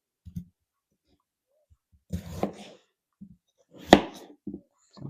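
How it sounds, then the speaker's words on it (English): A knife chops a potato into small pieces on a home kitchen cutting board, giving a few sparse, close knocks with gaps between, one louder thud near the end and no talking. "we'll cut up 1 potato in probably like bite-sized pieces"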